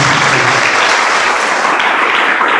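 Dense, steady applause from a church congregation fills the whole stretch, loud and continuous with no pauses.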